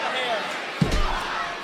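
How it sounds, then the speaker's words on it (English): A wrestler's head slammed onto the ring mat during a women's SmackDown match in Toronto's Scotiabank Arena, a single sharp thud over steady arena crowd noise. "Slamming her head down onto the mat."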